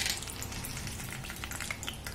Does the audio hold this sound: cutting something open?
no